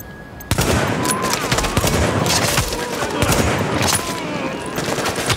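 Rapid bursts of gunfire in The Division crackle continuously, with dense automatic fire and scattered shots layered over a busy game soundscape.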